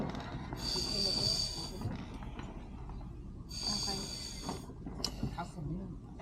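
Two long, hissing bursts of breath are pushed out through a scuba regulator mouthpiece, with bubbling and mouth noise between them, during a scuba diving lesson.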